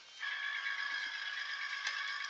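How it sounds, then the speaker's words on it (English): Cricut cutting machine starting up: a faint, steady high-pitched mechanical whir holds throughout, with a small click near the end. "You can hear the machine starting up in the background."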